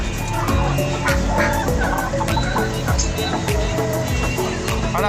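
Live chickens at a poultry seller cluck and squawk close by in busy, overlapping bursts, with a pulsing low rumble and background activity underneath.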